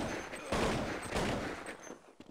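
Rapid bursts of gunfire from a shooter video game match in a quarterfinal esports round, dense overlapping shots at steady loudness with a sharp final crack.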